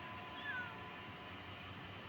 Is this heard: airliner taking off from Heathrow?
no